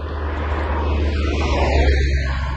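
A tractor approaching across a farm field in Italy during wheat sowing: a loud, steady low engine drone with a broad rumbling noise, continuous throughout the short stretch and close by.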